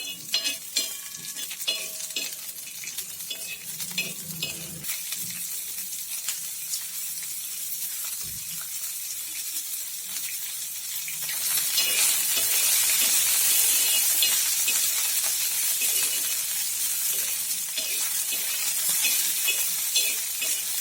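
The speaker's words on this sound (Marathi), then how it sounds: "छान भाजून घ्यायचेत आपल्याला हे चणे।" Green chickpeas (tahal) dry-roasting in a pan, stirred steadily with a scraping, rattling rhythm; a soft crackle builds into a louder, hissier sizzle partway through, with no talking.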